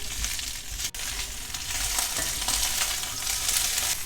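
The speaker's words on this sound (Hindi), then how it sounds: "हम हल्का सा भिंडी को फ्राई कर लेंगे" About half a kilo of okra (bhindi) frying in a pan, a dense close hiss of sizzling that stays loud and steady, with faint stirring as the pieces are moved around.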